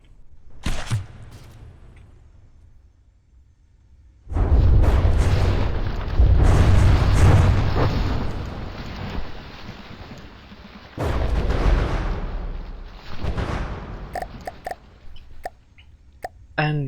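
Heavy weapon volleys from the ThunderClap retro vehicle slam into a bulwark in From the Depths, landing as a sharp hit followed by two long, loud rumbling barrages of booming impacts, with scattered smaller thuds trailing at the end.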